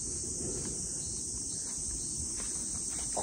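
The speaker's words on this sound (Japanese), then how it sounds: "マジセミの声がうるせえのよ。" A dense, loud, unbroken drone of cicadas fills a summer outdoor spot by a bench, a steady high-pitched buzzing that never lets up, with faint rustling beneath and no talking.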